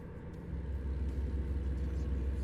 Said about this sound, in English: I'm on a Kenworth W900 right now.